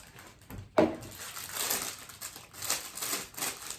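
A plastic cellophane bag crinkles and rustles close by in irregular crackling bursts as chocolate is poured in, beginning with a sharp crunch, with no voices.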